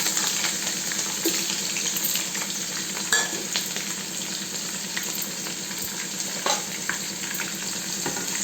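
Onions frying in a pan with cinnamon and whole spices for mushroom biryani, a steady moderate sizzle with scattered pops and the light scrape of stirring, no voices.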